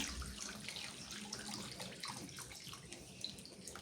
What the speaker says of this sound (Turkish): 1 litre de su ilave ediyorum.